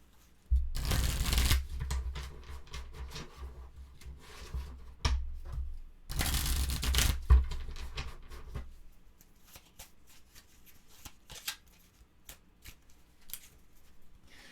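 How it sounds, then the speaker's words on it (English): A deck of game cards for the solo board game Welcome to the Moon being riffle-shuffled up close: two loud, dense shuffling bursts, each followed by softer clicks and taps of the cards being squared and handled. "do one more shuffle."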